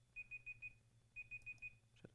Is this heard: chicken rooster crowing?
no